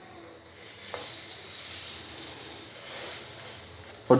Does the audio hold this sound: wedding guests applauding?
no